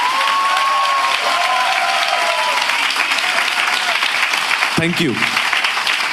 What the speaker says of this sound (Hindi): क्या हम यीशु के बहाए हुए लहू के लिए एक अच्छी ताली बजा सकते हैं?